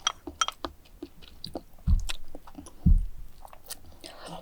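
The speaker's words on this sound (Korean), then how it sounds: "그리고 맛있게 얌얌 쩝쩝." Someone chews braised soy sauce eggs, hard-boiled eggs simmered in soy sauce and oligosaccharide syrup, with two close, soft bites followed by wet, steady mastication in a quiet room.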